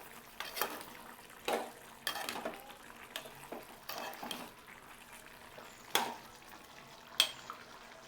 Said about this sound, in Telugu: ఇప్పుడు మనం ముందుగా నూరి పెట్టుకున్న ఈ మసాలా ముద్దను కూడా వేసేసేయండి. వేసేసి ఒకసారి బాగా కలియబెట్టండి.